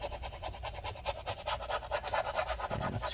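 Adhesive residue scraped inside a 13-inch Retina MacBook Pro A1502, early 2015, softened with rubbing alcohol: a close, rapid rhythmic scratching and rubbing with repeated strokes throughout.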